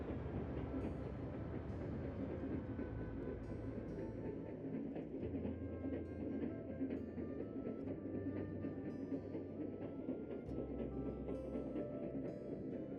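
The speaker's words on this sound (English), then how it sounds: "Train 27 is the westbound San Francisco Overland, on the last leg of its trip from Ogden and into the Oakland train shed" Southern Pacific's westbound San Francisco Overland passenger train arriving into the Oakland train shed, a continuous low rumble of rolling cars with squeals and metallic clatter layered over it, steady throughout.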